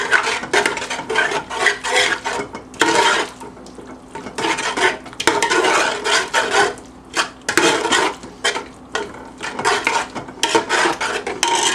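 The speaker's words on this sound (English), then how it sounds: "We'll get this stirred in." A spoon stirs vegetable stock into a green bean casserole in a pot, with repeated scraping and clinking strokes against the pot in an uneven rhythm, close and fairly loud.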